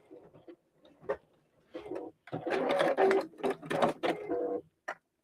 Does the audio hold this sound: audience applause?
no